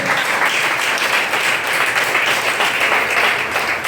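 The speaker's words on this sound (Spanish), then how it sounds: "Dale una alabanza de aplauso a Cristo." A church congregation applauds continuously and evenly, a dense, sustained wash of clapping with no talking.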